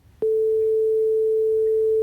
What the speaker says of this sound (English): at this point we can generate a sine wave